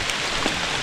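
Steady rain hiss on the muddy, root-covered trail up Mount Kerinci, a dense, even wash of drops with no clear individual hits, continuous and fairly close.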